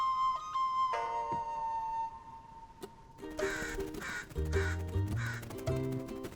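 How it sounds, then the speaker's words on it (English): A crow caws several times, loud and close, in harsh rhythmic bursts that follow a sustained whistle-like tone, with no talking. "I was just startled by this bird."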